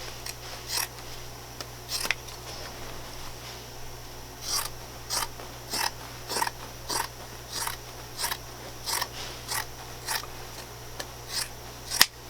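Scissors snip through Thinsulate insulation for a van ceiling in a regular series of crisp, close cuts, about a dozen strokes spaced evenly over a quiet background hum.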